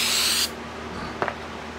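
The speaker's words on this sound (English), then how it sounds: "Spray this down with the accelerant." A short hissing spray burst of glue accelerant, then quiet with a couple of faint clicks or taps.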